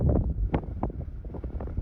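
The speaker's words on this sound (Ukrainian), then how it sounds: "навкруги, вітер сумасшедший" Strong wind buffets the microphone outdoors around a field, loud irregular low gusts and rumbling bursts, close and uneven, with no speech.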